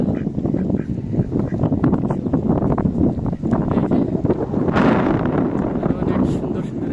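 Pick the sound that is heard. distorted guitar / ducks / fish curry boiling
ducks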